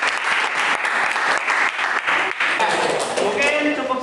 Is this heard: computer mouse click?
no